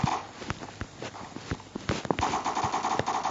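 UMP 45 submachine gun fire in the Minecraft-style shooter Block Strike, rapid loud bursts of clattering shots over a steady game background, no voices.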